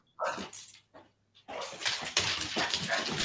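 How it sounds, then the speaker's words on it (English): A dog barks and whimpers in the background of an online real estate meeting: a few short yips and whines, then a longer burst of barking, moderately close and loud, with no one speaking over it. "Oh, I hear someone's dog."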